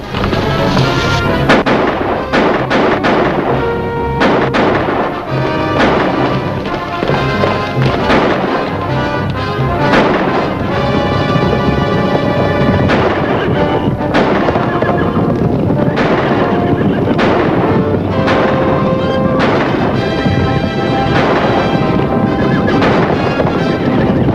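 Cowboys on horseback fire guns around a herd, a dense, loud, continuous volley of shots and booms over a steady rumble throughout, without speech.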